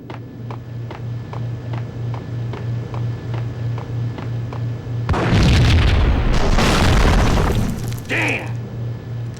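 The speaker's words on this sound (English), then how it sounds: "I thought it was a bomb for sure." A loud explosion boom in the PlayStation 2 game Max Payne erupts halfway through, following a steady rhythmic pulsing hum, with a rumbling crackle and a higher burst trailing after.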